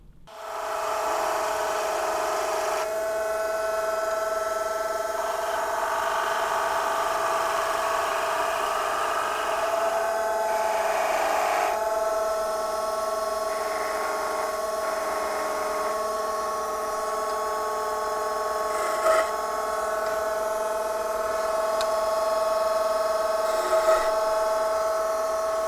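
Lathe spinning a round piece of wood while a skew chisel takes a practice cut, a steady close whirring hum with tonal scraping throughout and a few brief louder catches, with no talking.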